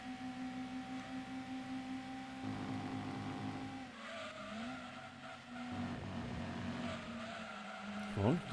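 Racing cars including a Supra and a Legacy drone and whine in the video game Gran Turismo 2, engine pitch rising and falling with gear changes and brief tire squeals. A voice talks over the sustained engine noise.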